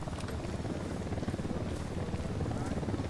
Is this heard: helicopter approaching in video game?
yes